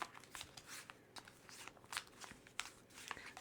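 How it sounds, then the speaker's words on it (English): Tarot cards are shuffled by hand, soft riffling and crisp card flicks in irregular bursts, quiet and close with no voice. "Mix up these cards,"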